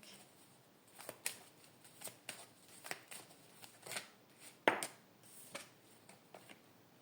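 Oracle cards being shuffled by hand before one is drawn, a quiet close series of soft papery flicks and riffles at an uneven pace, with one sharper snap near the middle.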